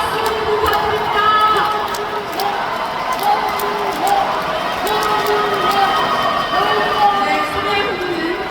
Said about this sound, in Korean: 소녀분들께 다시 한번 큰 박수 부탁드립니다